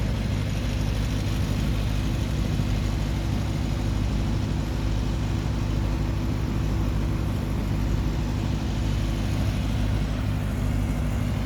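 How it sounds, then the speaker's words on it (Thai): A diesel engine generator runs continuously with a steady, droning, low throbbing hum and constant broadband noise, with no pauses or voices. "เครื่องยนต์ก็กำลังทำงานอยู่นี่ครับ"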